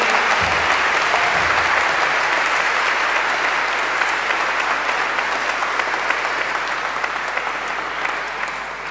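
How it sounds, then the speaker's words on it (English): Sustained, dense applause from a large audience for graduates at a college graduation ceremony, steady and loud for the whole stretch before tapering slightly at the end. "So let's have another round of applause to congratulate all the graduates for achieving this great milestone."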